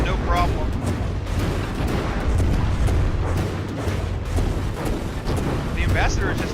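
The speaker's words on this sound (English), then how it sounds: "The Ambassador's gun is able to keep up no problem." Tank gun fire in the From The Depths vehicle combat game, with repeated booming shots and explosions over a dense rumbling battle din, with speech.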